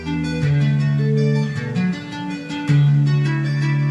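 Guitar riff patterns, played as a steady run of picked notes with sustained low tones and shifting pitches, loud and continuous without talk.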